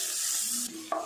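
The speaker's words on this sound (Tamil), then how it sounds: "பெரிய வெங்காயம் சேர்த்துடலாம். வெங்காயம் சேர்த்துட்டு நல்லா வதக்கிடலாம்." Chopped large onions sauté in hot oil for a vegetable sandwich filling, giving a steady close sizzle with stirring, then a brief metallic clink near the end. No one speaks.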